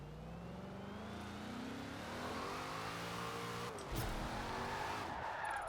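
A supercharged police car in Forza Horizon 4 revs and climbs through rising engine tones while its tires skid and squeal during a drift, ending in a brief thump and renewed engine roar.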